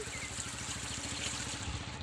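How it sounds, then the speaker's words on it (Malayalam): Steady low trickling water flowing from one paddy field into the next, continuous and fairly close, with a rhythmic gurgle running underneath throughout. "ഒരു പാടത്തുനിന്ന് അപ്പുറത്തെ സൈഡിലേക്ക് വെള്ളം പോണതാണ്"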